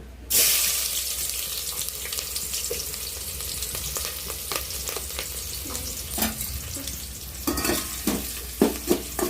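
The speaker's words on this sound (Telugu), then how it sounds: "ఉల్లిపాయ టమాటాలు వేసుకున్నాం టమాటాలు వేసుకొని కలిపి వేసుకున్నాం" Onions and tomatoes for a chicken curry sizzle in a pan while being stirred, giving a continuous loud frying hiss broken by scraping and clinking spoon strokes that grow busier toward the end.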